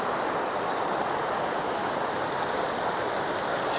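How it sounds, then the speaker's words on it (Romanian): Mountain stream in Norway rushing downhill toward a waterfall, a steady broadband wash of flowing water that stays loud and even throughout with no voices. "Și pe aici curge pârâul care va forma cascada la un moment dat."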